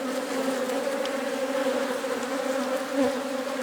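A dense, steady buzz of honey bees at a beehive during the relocation of a queen to a new hive, a continuous close drone of many insects with no voices.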